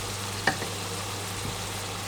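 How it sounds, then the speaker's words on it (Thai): Pork belly and basil stir-frying in a pan, a steady low sizzle with a brief clink of the spatula near the start and soft stirring scrapes, no talk. "เรามาผัดเลย แล้วก็ผัดให้โหระพาสลดนะครับ"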